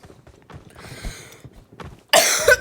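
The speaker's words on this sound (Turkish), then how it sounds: "boğazım birazcık gıcık yaptı. Öksürükler için özür dilerim." A burst of coughing from a person with a tickly, irritated throat, loud and close near the end after quieter rustling and low background noise.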